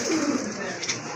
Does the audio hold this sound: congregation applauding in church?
no